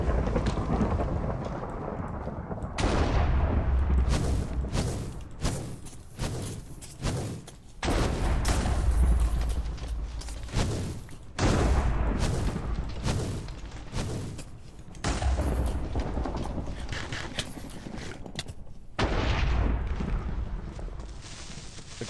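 Explosions keep going off in Minecraft with the Legendary Beasts mod, loud, broad booming bursts in quick succession with a few short gaps between them, and no talking.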